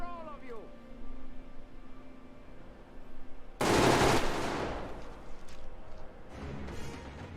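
Gunfire from enemies in the video game Metro Exodus, a sudden loud burst of rapid shots that fades into a continuing rattle, with voices and shouting in the game before and after.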